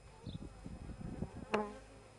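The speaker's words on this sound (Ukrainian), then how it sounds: "Бджоли дуже агресивні стали." Carpathian honey bees, a local Univ strain, buzz around hives at an apiary, a soft, uneven hum from several insects passing nearby, with one brief louder buzz close to the ear near the end.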